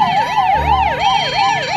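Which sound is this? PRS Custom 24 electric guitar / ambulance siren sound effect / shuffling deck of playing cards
ambulance siren sound effect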